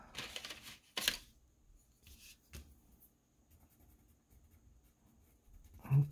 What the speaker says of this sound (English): Now I'm grabbing that white pencil.